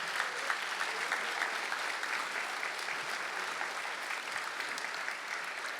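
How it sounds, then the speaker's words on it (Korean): Sustained audience applause at a Korean presidential inauguration ceremony for the 21st president, a steady dense wash of many hands clapping throughout with no talk. "다시 한번 대통령님께 큰 박수 보내주시기 바랍니다"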